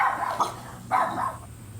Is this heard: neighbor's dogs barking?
yes